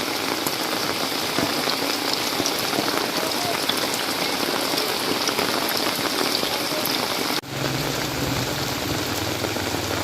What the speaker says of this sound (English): Oh yes, it's raining good now.